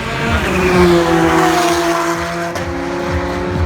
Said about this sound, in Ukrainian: Ми дивимося на гонки.